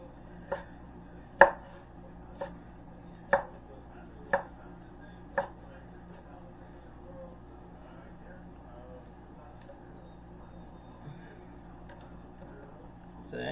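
A knife chops corned beef into cubes on a board, six distinct sharp knocks spaced about a second apart in the first half, then quiet with only faint room noise.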